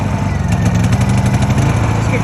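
A Honda EU2000i portable generator idles steadily with a low, even engine hum and a fine rhythmic pulse, close up and loud throughout.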